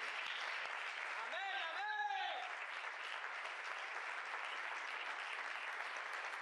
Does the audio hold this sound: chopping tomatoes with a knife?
no